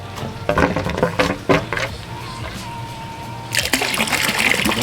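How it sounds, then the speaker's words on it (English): Water spills from a canister filter outlet into a garden pond, a few splashy trickles at first, then a steady close rush of flowing water taking over in the last second. "I got the filter all hosed up and plugged in. The water should be coming out at any second."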